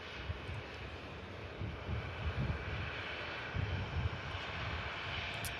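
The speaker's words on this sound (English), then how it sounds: "And that's arriving in from Singapore as well. Yeah, the A350-900." An Airbus A350-900 airliner arriving from Singapore at Manchester Airport rumbles as a steady, moderately distant jet roar with some wind buffeting, no talk over it.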